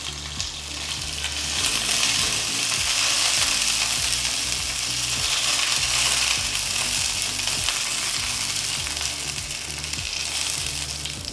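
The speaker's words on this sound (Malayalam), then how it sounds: "2-3 വറ്റൽമുളകും കൂടെ ഒന്ന് വറുത്തെടുക്കാം." Curry leaves and two or three dried red chillies frying in hot oil, a loud close continuous sizzle with rhythmic stirring clatter from the pan.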